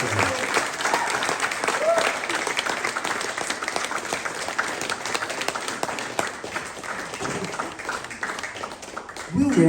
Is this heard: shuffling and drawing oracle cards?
no